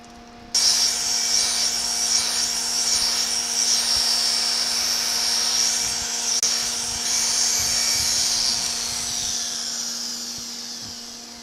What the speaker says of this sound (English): And now we successfully polished the edge of the material.